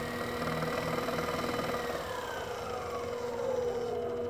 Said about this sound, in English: so let me go over here and stop the spindle